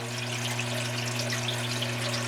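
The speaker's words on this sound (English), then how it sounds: "the wet dry trickle filter is doing what it does. Trickles water down through the bio balls." Water trickling through bio balls in an aquarium wet-dry trickle filter sump, a continuous close splashing patter over a steady low pump hum, unbroken and without talk.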